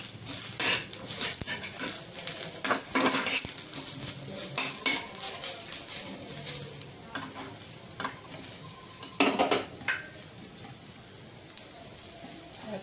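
Onion, ginger and garlic sautéing in a pan for a spicy green pea curry, a continuous sizzle broken by frequent metal spoon scrapes and clinks against the pan, close-up with no talking.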